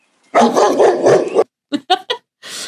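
Several dogs bark indoors at a local awards show podcast: a long burst of loud overlapping barking, then three short sharp yips and a final bark, with people talking around them.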